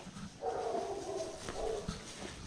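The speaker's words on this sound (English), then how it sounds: "And these dogs aren't happy" Dogs whimpering and whining in a sustained, strained cry with a few short yips, fairly close in a rural spot near petroglyphs in Xochimilco.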